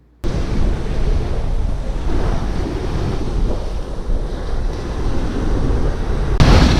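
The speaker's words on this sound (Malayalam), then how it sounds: "കടൽ തിരമാലയുടെ ശബ്ദം കൊണ്ട് വോയിസ് ക്ലിയർ ആവുമെന്ന് അറിയില്ല." Sea waves wash steadily onto a beach with a constant roar of surf, heavily mixed with buffeting wind noise on the microphone and no voices.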